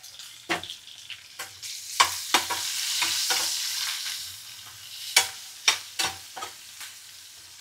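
Green chillies fry in hot oil in a pan with a soft continuous sizzle, while a utensil stirs them in sharp, irregular clinks and scrapes, close and clear with no talking.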